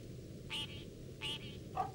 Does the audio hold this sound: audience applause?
no